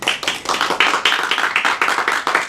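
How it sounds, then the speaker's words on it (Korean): Church congregation at a Korean worship service clapping together in steady rhythmic unison, loud and close, a brief dense burst of applause with no voices over it. "우리 하나님께 영광의 박수 드리겠습니다"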